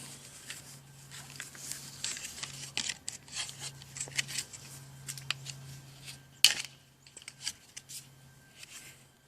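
Hand tools snip and cut vinyl siding panels to size in a series of crisp, irregular cuts and crinkles, with a steady low hum underneath.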